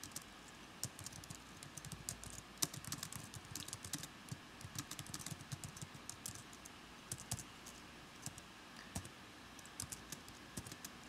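Code being typed on a computer keyboard for a Ruby dice simulation program: steady, irregular clicking keystrokes, close and fairly quiet, continuing alone with no voices.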